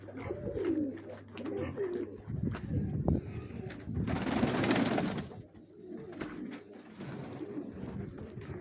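Pigeons coo repeatedly close by, soft throaty calls over a steady background, with a brief burst of rustling noise midway and occasional low voices.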